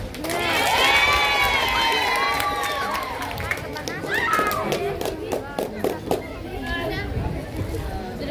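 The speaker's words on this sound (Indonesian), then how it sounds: "Ya, tepuk tangan." Students at a junior high school student council candidate debate cheer and shout, their excited voices loud at first, then sharp scattered claps break out over steady crowd chatter.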